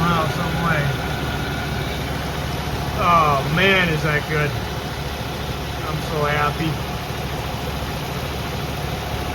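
A Ford truck's high-mileage engine, about 300,000 miles and leaking a little oil from the rear main seal, idles with a steady low drone while someone talks over it.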